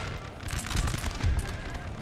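Musket volleys from Napoleon: Total War multiplayer battle, a dense crackle of overlapping shots with two heavier bursts rolling over a constant din of distant fire.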